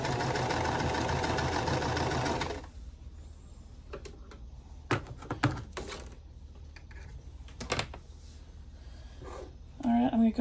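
Sewing machine stitching quilt block pieces runs loud and steady for about two seconds, then stops, followed by quieter clicks and fabric handling near the machine.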